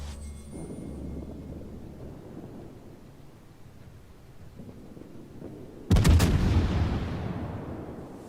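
The main guns of the German cruiser Hindenburg fire in a naval battle game, one sudden heavy broadside boom after a quiet lull, followed by a long rolling rumble that fades slowly.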